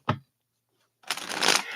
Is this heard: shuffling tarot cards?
yes